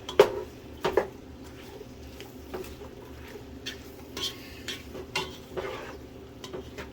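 Onion being stirred into bacon and sausage grease in a pot, with scattered soft scrapes and clanks of a spoon against the pot over a faint sizzle, unhurried and close, no speech.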